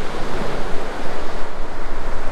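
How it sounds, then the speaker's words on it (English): Strong wind buffeting the microphone on a hilltop above the sea on the UK east coast near Mablethorpe, a loud gusty rumbling roar with surf-like swells, no speech. "we're at the top of the hill and it's rather windy up here"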